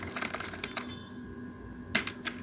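Fingers tap a command out on a computer keyboard in Kali Linux, a quick run of clicky keystrokes followed by a pause and a couple more isolated key presses, close and fairly quiet.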